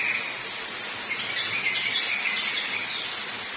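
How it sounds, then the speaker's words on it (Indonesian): Outdoor zebra dove calls fill the air, with soft repeated calls and chirps over a steady insect hum. "banyak banget burung perkutut di sini"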